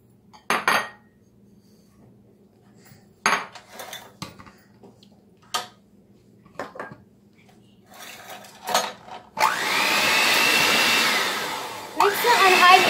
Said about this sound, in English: I'm using a hand mixer for now